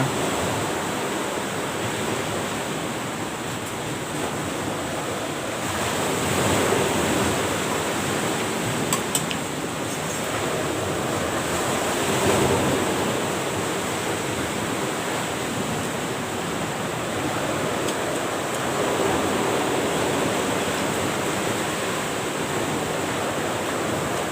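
Steady rushing noise of rain and gusting wind, dense and continuous throughout, with no voices.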